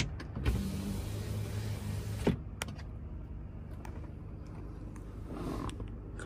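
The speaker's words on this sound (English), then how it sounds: "power sliding rear window" The power sliding rear window of a 2024 Ford F150 XLT PowerBoost runs with a steady electric motor whir inside the cab, a couple of sharp clicks and creaks near the start, then the hum continues evenly.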